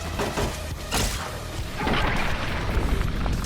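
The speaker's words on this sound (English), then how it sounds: "You're shooting at me." Gunfire and explosions in the video game Fallout: New Vegas, loud booming blasts and crashing impacts in quick succession, with a rumbling barrage building in the second half.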